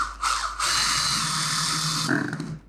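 A handheld electric drill with a 5 mm bit bores a hole in metal, giving a steady high-pitched whine that starts sharply, holds for about two seconds, then winds down with a few rattling clicks at the end.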